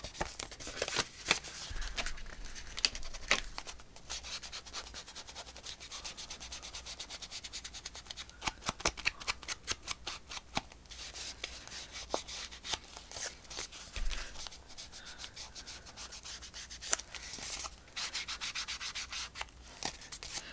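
Ink being rubbed onto paper while crafting journal pockets, a steady scratchy scrubbing with quick rhythmic strokes and small taps, close by with no talking.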